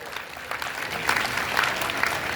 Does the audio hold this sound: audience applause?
yes